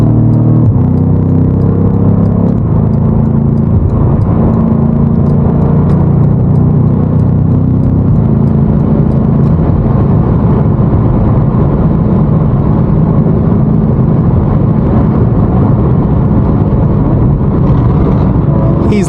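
A 617-horsepower BMW M5 Competition driving through New York City traffic, its engine a loud, steady low rumble and whir that carries on throughout without voices.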